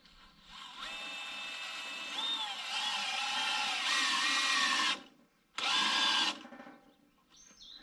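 A power drill drives a screw into a fitting at the base of a new electric service pole, whining in several long bursts of a steady high-pitched tone, close and loud, with a short pause before the last burst.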